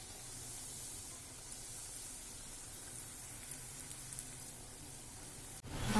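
Snacks fry in hot oil with a soft, continuous sizzle and hiss, faint and steady throughout, ending with a louder clatter close by.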